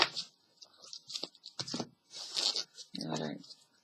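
A deck of Dragon Tarot cards is shuffled by hand in several short, papery riffling bursts with brief pauses between them. Close, light and crisp.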